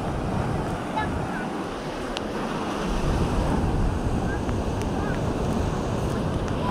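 Continuous rushing water of a strong-flowing river with heavy wind buffeting the microphone, loud and unbroken throughout.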